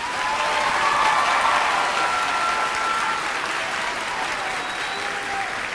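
Sustained applause from a large audience at a 2022 high school graduation ceremony, steady and full for several seconds, honoring graduating students as their names are read.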